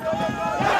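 A hysterical stadium crowd after a football match roars and chants in one dense, loud burst, voices massed together with a rhythmic pulsing swell.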